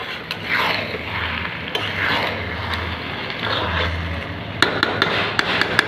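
Basanti pulao stirred in a kadai, repeated scraping and rubbing strokes of a spoon against the pan, with a few sharp metallic taps near the end.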